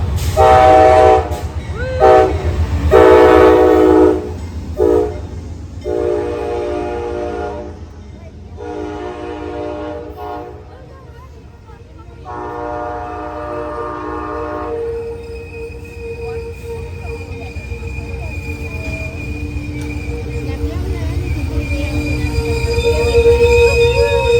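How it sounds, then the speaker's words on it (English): An Amtrak passenger train at a station sounds repeated loud horn blasts up close, then rumbles and rolls past with a steady mechanical drone and faint wheel squeal. "So we are at the Amtrak station, and Madalyn is going to Florida"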